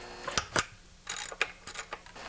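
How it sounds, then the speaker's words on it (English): A half-inch socket wrench works the recoil bolts on a Stihl TS420 cut-off saw, giving a handful of sharp, close metallic clicks and short ratcheting bursts with quiet pauses between them. "I'm going to start by removing the recoil so that I can remove the blade off."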